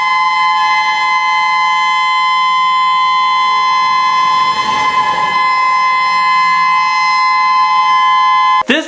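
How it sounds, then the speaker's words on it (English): A Maui tsunami warning siren blares as a loud, steady tonal wail with stacked harmonics, holding unchanged for nearly nine seconds before cutting off abruptly at the end. "the Tsunami Siren in Maui"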